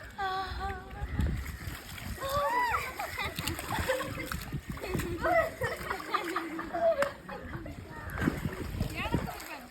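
Water splashes and sloshes repeatedly at a resort while children chatter and call out nearby.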